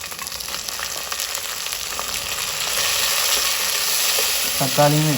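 Chopped tomato and onion sauté in hot oil in a pan for a chicken leg gravy, giving a steady close sizzle that grows louder partway through, with scraping stirs and a brief voice near the end.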